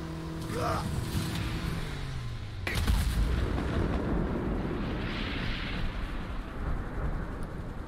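Sustained heavy gunfire in the video game A Way Out: dense, continuous shooting and blasts that swell after a sharper burst partway through, loud and close, with a voice faintly audible beneath the barrage.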